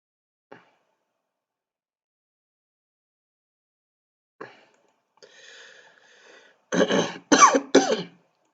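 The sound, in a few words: cough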